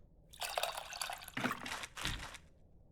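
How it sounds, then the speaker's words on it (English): Tamarind is mixed with water in the video game Venba, a few short, bright liquid swishes and splashes in quick succession, close and clean against silence. "Looks like I have to mix the tamarind with the water to extract its essence multiple times."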